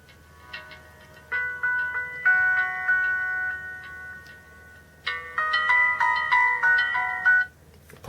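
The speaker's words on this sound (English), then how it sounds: "Let's see if there's any music preloaded on here." A preloaded song plays from the small built-in speaker of a Samsung Galaxy S3 Mini, with bright electronic melody notes in two phrases separated by a brief pause, heard clearly with no talking.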